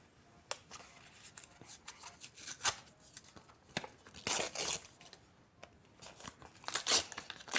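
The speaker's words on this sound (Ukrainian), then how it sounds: "Відкриваємо наш пакетик." Close, crinkly bursts of a small thin plastic or foil collectible packet being torn open and handled, irregular rustles and rips separated by short quiet gaps.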